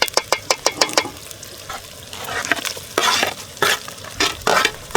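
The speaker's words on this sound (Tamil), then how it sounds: "தக்காளி போட்டாச்சு. வதக்க தக்காளி வச்சு நல்லா வதக்க வேண்டியதான்." Tomatoes sauté in a hot pan for village-style country chicken gravy, with sizzling under repeated quick ladle strokes and scrapes that come in bursts, close and fairly loud, with no speech.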